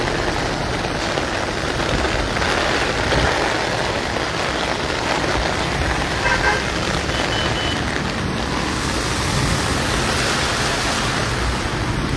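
Heavy rain falls steadily during a storm near the Marikina river. The dense, hissing wash holds an even loudness throughout, without voices.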